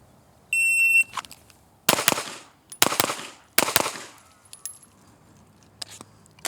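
A shot timer gives a single sharp electronic beep, followed by several loud, sharp impulsive bangs in quick succession.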